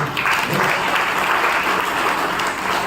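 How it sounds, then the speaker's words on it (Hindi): Sustained applause from a large audience at a Brahma Kumaris happy-life talk, many hands clapping densely and evenly throughout with no voices standing out. "सभी भाई लोग माताओं के लिए जरा जोर से तालियां बजाइए।"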